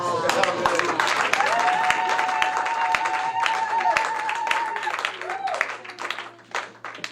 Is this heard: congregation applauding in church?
yes